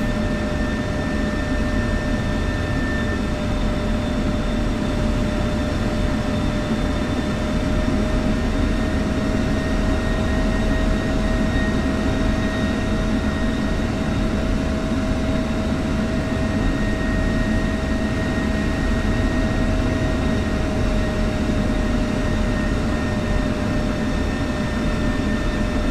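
An F-16 Viper jet engine spools up in the DCS flight simulator, a steady dense roar with a sustained whine running through it, loud and constant throughout with no voices.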